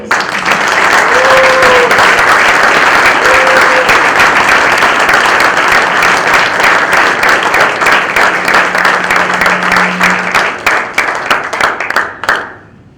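Loud, sustained applause from an audience at a book launch for a law book, a dense wash of clapping lasting over twelve seconds with a few brief tones under it before it fades out.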